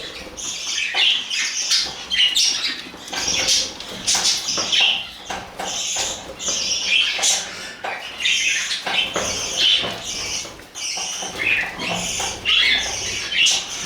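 A budgerigar chick and a parent budgie call back and forth in quick, shrill chirps and squawks, close by and fairly steady throughout.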